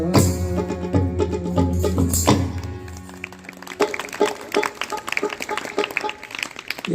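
An audience at a devotional bhajan performance claps along, light scattered hand claps following a fading sung and instrumental passage, moderately near with a faint voice underneath.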